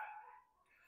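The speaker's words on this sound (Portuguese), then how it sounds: "Tem um cachorro latindo aqui." A dog barks somewhere off in the distance, faint and brief, heard within an otherwise quiet indoor room.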